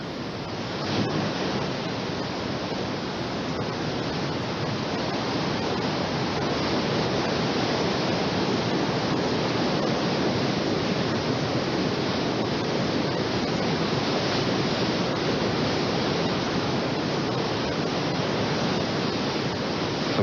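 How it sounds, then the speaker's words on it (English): Cold river water rushing through a big rapid, a dense, steady, unbroken roar that stays loud and close throughout, with no voices. "I knew this big rapid was coming"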